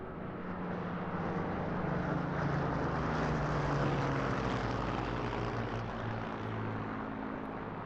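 A historic propeller warbird, one that led a Battle of Britain flypast, flies at the Eastbourne International Airshow, its engine drone loud and steady throughout with a constant broadband roar.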